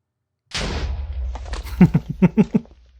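A Minecraft TNT block blows up with a sudden loud, close blast after a moment of silence, followed by a series of short rhythmic popping bursts as the explosion rumbles out.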